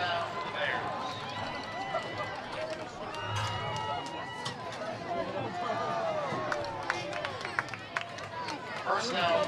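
A football crowd at a Ludlowe vs Norwalk high school game cheers and chatters excitedly as cheerleaders toss shirts into the stands, a dense, steady roar of many voices with scattered sharper shouts throughout.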